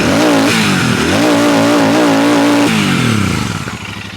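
A Royal Enfield Meteor motorcycle engine revs up from idle, loud and close, its throttle rising in waves before the revs settle and fade toward the end.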